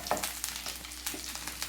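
Chicken pieces fry in hot oil for butter garlic chicken, a steady close sizzle with crackles and small pops and occasional stirring clatter.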